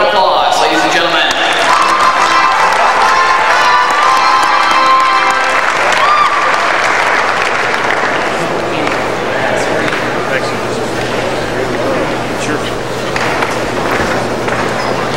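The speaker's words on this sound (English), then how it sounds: "Let's give them one round of applause" An audience at an FFA state leadership conference applauds and cheers for award winners, loud and sustained at first, with a voice over a public address system, then thinning into crowd murmur with a low steady hum.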